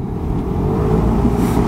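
A Royal Alloy GP 300 S retro scooter with a Quasar, Piaggio-type engine runs smooth and loud up close, its steady drone rising slightly as it pulls away.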